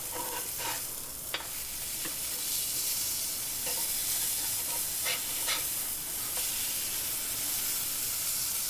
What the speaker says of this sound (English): And now it's time for the patties. You can hear that nice sizzle.